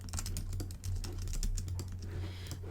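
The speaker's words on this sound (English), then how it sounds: "I'm just going to type in some gibberish." Rapid, irregular keystrokes on a computer keyboard, someone mashing random keys in a quick, close, steady patter with no talking.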